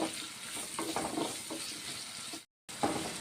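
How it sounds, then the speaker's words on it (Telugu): Onions and green chillies sizzle in a pan, being browned, with a steady frying hiss broken by a few soft stirring scrapes and a brief moment of silence near the end. "కాస్త రెడ్గా అయ్యే వరకు వేయించుకుందాం"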